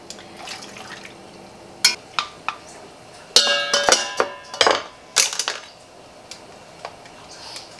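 Brown sugar cinnamon syrup ladled over sweet potato chunks in canning jars: scattered clinks of ladle against glass and pot, with bursts of pouring liquid and drips, close and fairly loud.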